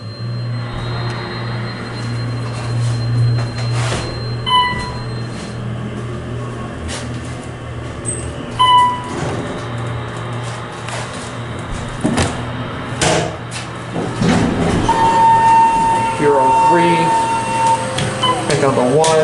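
An elevator motor hums steadily through a ride in a Disney All-Star resort elevator, a low drone under clunks, door noises and a rising whine near the end, with no talk over it.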